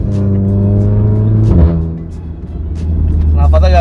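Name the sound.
Audi S3 Valvetronic exhaust while accelerating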